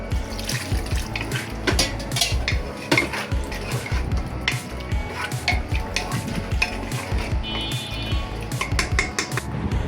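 Ground spice paste is stirred with oil and a splash of water in a metal pan while cooking liver rezala: constant scraping and clinking of a spoon against the pan, with wet splashing throughout and no talk.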